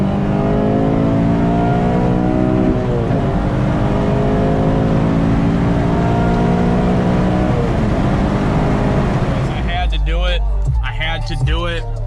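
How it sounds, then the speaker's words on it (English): Engine of a Honda Civic Si revving hard and holding at the rev limiter, loud and close with rising harmonic tones for about nine seconds, then cutting off to a bouncing idle. "let's hit some limiter, guys."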